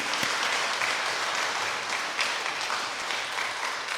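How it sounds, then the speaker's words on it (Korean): A church congregation applauds at a Sunday service, a dense, even wash of clapping from many hands that holds steady throughout, with no talking over it. "감사의 박수 한번 해주시죠"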